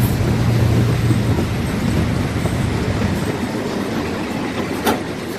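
An amusement park train rumbles steadily nearby with a low mechanical hum, a brief high squeal near the end.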